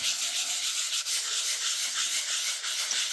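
Steady close-up rubbing hiss of wet sanding a shellac finish on a guitar, continuous strokes with slight rhythmic swells and no talk.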